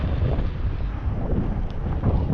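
Wind buffets the microphone at a fishing spot, a steady, loud low rumble that fills the whole short stretch with no talk.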